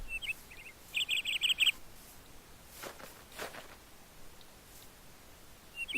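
A little bird in the Twilight Forest mod for Minecraft gives a quick burst of high, rapid chirps, then a few fainter chirps at the edges, with soft footsteps shuffling through the quiet background.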